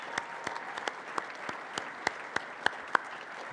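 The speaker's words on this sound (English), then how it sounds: "Let's give him a huge, huge round of applause to Alex Mehran" Scattered hand claps ring out at an uneven pace over a steady background hum, a few sharper claps standing out near the end.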